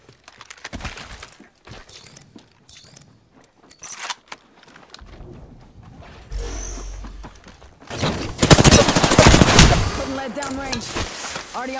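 Rapid bursts of weapon fire in an Apex Legends match, growing dense and loud toward the end with sharp cracks and metallic clatter, mixed with game sound effects and short spoken callouts.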